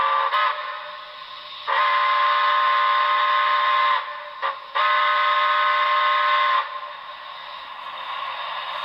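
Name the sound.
Broadway Limited HO model steam locomotive long whistle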